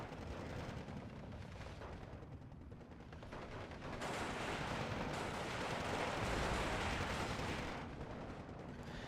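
Sustained rifle fire from automatic and semi-automatic weapons during a Steel Division 2 battle, a dense rattling crackle of shots that swells louder midway and continues steadily to the end with no talk.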